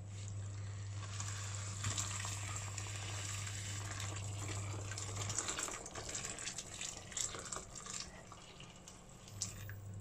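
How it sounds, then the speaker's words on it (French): Boiling water pours steadily into a dish of raw pasta, a continuous hissing splash close by with a low hum under it for most of the pour. "on va ajouter donc 900 ml d'eau bouillante"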